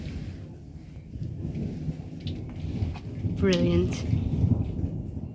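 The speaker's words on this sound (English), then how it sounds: "Hiya, little thunder." Thunder rumbles low and steady through a storm with rain falling, while a nearby voice speaks briefly over the continuous roll.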